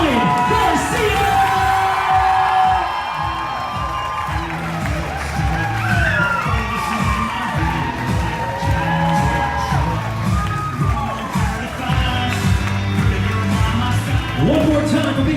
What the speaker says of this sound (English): if you could please stand up and put your hands together for the reason we're here this evening, Mr. and Mrs. Collin Garcia